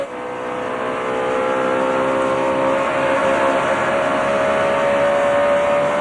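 NASCAR race cars roar steadily on track, a loud sustained engine drone with a high whine that holds throughout, no talk over it.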